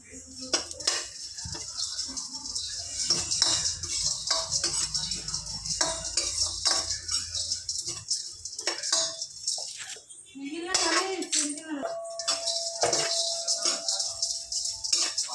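Dried shrimp are stirred and fried in a pan, giving close, irregular metallic clinks and clatters of a utensil against the pan, with short quiet pauses between bursts of scraping.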